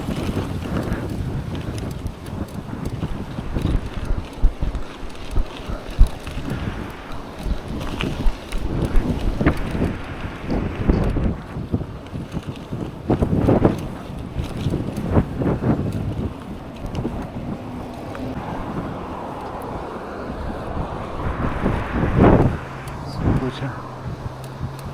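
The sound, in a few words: wind blowing while cycling along the river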